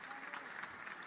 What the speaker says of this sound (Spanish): recibe al mandatario electo con aplausos